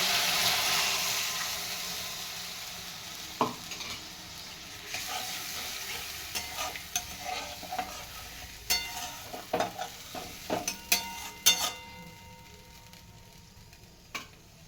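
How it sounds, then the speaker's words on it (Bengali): Spice paste for a vegetarian Bengali dhokar dalna is stir-fried in oil in a pan, giving a soft sizzle that fades while a spatula scrapes and taps in quick, uneven clicks. "তেল ছাড়া পর্যন্ত মশলাটা কষাতে থাকবো।"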